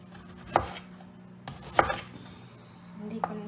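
A knife rough-cuts unpeeled ginger on a board in three separate sharp chops spaced about a second apart, close and clear over a quiet kitchen hum.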